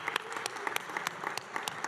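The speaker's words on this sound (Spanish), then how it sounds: "un aplauso para todas" An audience at a legislative assembly session marking National Marimba Day claps in a brief burst of fairly faint, scattered applause.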